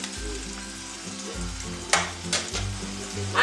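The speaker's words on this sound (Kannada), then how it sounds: "ಇವೆಲ್ಲವನ್ನು ಫ್ರೈ ಆದ್ಮೇಲೆ ಸೈಡಿಗೆ ಸ್ವಲ್ಪ ಎಣ್ಣೆ ಬಿಟ್ಕೊಳ್ಳುತ್ತಲ್ಲ" Spices and minced mutton keema sizzle steadily in hot oil for a home-style avarekalu mutton keema gravy, with a continuous close frying hiss and a few brief scraping stirs.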